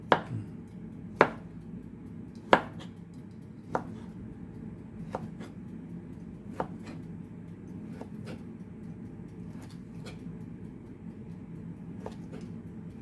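A knife chops hotdogs on a board in a quiet room, a few sharp, fairly faint taps spaced irregularly, louder at first and then softer.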